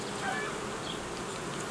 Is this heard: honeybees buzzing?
yes